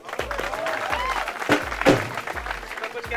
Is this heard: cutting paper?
no